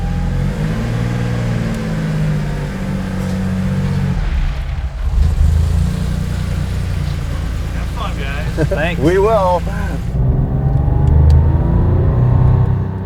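A Porsche 959 pulls away and accelerates on the road in poor weather, its engine droning steadily and rising in pitch, while people inside the car exchange brief words over the running engine.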